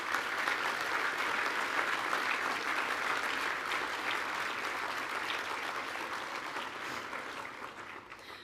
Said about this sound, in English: Please congratulate Lance on achieving the Apprentice of the Year award